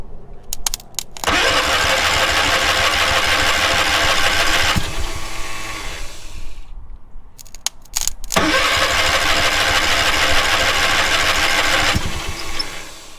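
Small engine on a man lift sputtering to life and running loudly at close range, cutting out briefly after a few seconds and then restarting and running steadily again.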